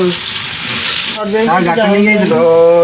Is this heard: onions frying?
yes